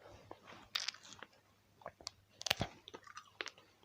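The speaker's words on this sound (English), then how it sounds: "Hope you guys are munching on some beef jerky along with me." Close-up chewing of tough chilli-flavoured Cornish beef biltong, with irregular crunchy bites and wet munching sounds in short bursts.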